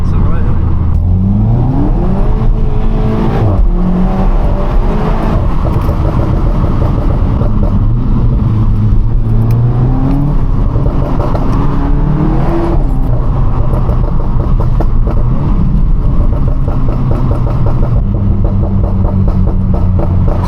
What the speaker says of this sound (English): This car sounds alright.